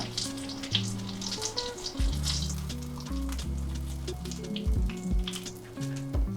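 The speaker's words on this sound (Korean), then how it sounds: "베이비웍으로 튀기니까 기름이 거의 안 남아서 너무 좋은데요?" Chicken tenders deep-frying in a Staub cast-iron baby wok, a steady close sizzle with crackling oil bursts running throughout, fairly loud and alone with no voices.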